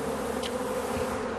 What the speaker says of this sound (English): The buzzing bunch ended up hanging from a tree branch